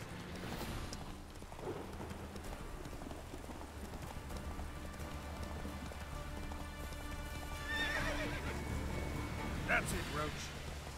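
Hoofbeats and a whinnying neigh from a horse in The Witcher 3: Wild Hunt, the clip-clop rhythm steady over game music and light rain ambience, the neigh rising briefly near the end.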